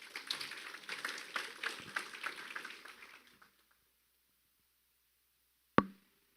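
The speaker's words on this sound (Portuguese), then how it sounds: "Uma salva de palmas, por favor." Seminar audience at a public-administration governance lecture applauds a speaker in a brisk, moderately distant patter that fades out after a few seconds, followed by silence and one sharp knock.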